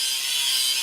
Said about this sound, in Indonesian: itu malah gerinda, malah berisik terus tukang